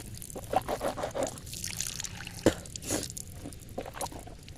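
Water trickling and pouring from a tube well hand pump outdoors, with uneven splashes, gurgles and a few sharper spatters over several seconds.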